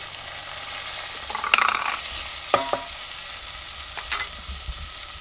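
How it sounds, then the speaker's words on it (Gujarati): Green peas tipped into a pan of crackling tempering with asafoetida, giving a steady close sizzle broken by a few sharp clatters and scrapes as they land and are stirred. "બધું કકડી ગયું એટલે હવે આ પેલા ઘણા વટાણા"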